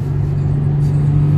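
A Nissan 350Z's engine drones loud and steady through its exhaust under load, with a strong low hum and no speech over it.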